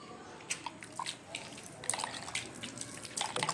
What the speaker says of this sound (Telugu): బెల్లం నీళ్ళు చల్లుకుంటున్నా అంతే.